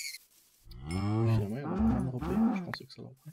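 A cow in a video game lets out one long, clear moo that rises and wavers before trailing off, close and loud against an otherwise quiet background.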